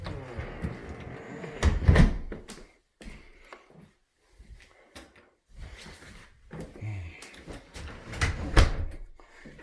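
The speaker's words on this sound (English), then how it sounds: "I'm going to go ahead and shut these doors." Interior doors in a house are pushed shut, giving a few sharp wooden thumps and knocks spread across the moment, fairly close, with quiet pauses between them and no talk.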